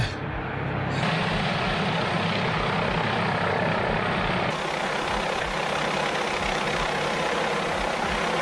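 A steady, loud helicopter-like engine drone with continuous rotor rumble, shifting slightly in tone partway through, with no voices.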